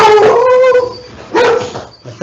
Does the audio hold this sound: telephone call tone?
no